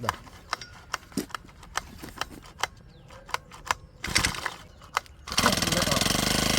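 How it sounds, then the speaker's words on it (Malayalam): A grass cutter's small engine catches on a single pull. It starts with a few sharp clicks and knocks, then roars into a loud, steady buzz for the last second or so. Nobody speaks. "സംഭവം അടിപൊളിയായിട്ട് ഒറ്റയടിക്കുന്ന സ്റ്റാർട്ടായിട്ടുണ്ട്."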